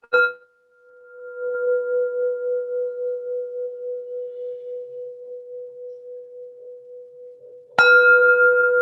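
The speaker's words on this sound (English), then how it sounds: "Oh, you want to ring the bell, Yoli?" A bell rung to open a grandmothers circle sounds a single clear, sustained tone that slowly decays with a gentle wavering, then a second strike rings bright and loud near the end.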